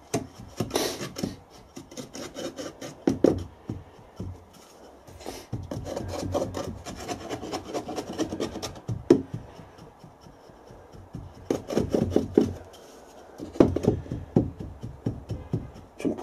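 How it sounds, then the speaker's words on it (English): Foundry sand is rammed and packed firmly around a casting pattern in a moulding box for bronze casting, making repeated gritty scraping and rubbing bursts, close and fairly loud, separated by short pauses. "the sand must be rammed down, packed nice and firmly around the pattern"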